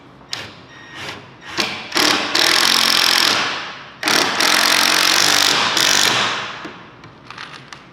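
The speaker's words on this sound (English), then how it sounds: "Then I'm gonna start screwing in my pocket screws." A power drill drives pocket screws into a wooden cabinet face frame, with several loud whirring bursts, each running from under a second to about two seconds, broken by short pauses and ending in a few lighter taps.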